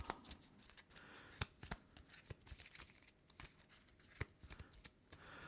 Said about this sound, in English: reshuffle all the Woods cards, so let's shuffle that